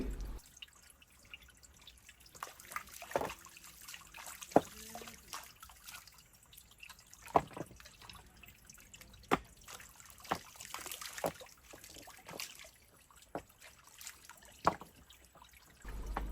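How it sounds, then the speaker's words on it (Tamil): Spring water trickles and drips out from between rocks at a natural spring, a soft irregular patter of small drops and thin flow, fairly quiet and steady with occasional sharper drips, no voices. "பாறைகளுக்கு இடையில் எப்படி நீர்வீழ்ச்சி இருக்குதுன்னு பாருங்கள் ஆச்சரியமாக தான் இருக்குது தண்ணீர் ஊச்சி ஒரு இடத்துல மட்டும் இல்லை"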